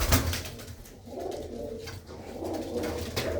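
A pigeon in a Punjabi loft gives soft, low, rolling coos in two short phrases, close by and alone with faint background noise.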